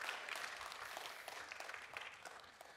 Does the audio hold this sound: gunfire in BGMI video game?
no